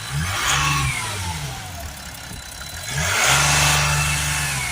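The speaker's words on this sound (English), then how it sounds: "the car sounds so much better" A close Mercedes E350 diesel engine running, revving up twice and settling back in between, with a rough low rumble and a steady whirring hiss.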